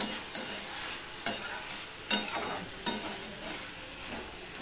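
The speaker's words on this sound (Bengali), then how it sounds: "পটল দিয়ে ভালো করে আমার এগুলো সব মেশানো হয়ে গেছে। দেখো, একটু কষিয়ে নিলাম।" Pointed gourd (potol) being stir-fried in a pan for a vegetarian dish: continuous crackling sizzle with several sharp scraping stirs of a spatula at regular intervals, fairly close.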